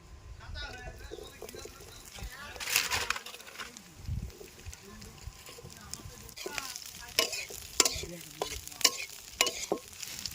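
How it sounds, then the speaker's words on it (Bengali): Cauliflower pieces fry in a pan, a soft sizzle broken by irregular scraping stirs of a spatula and occasional clinks, fairly quiet and close, with a voice talking over parts. "বন্ধুরা এবার ভেজ ডাল করার জন্য ফুলকপিগুলো ভেজে নেবো।"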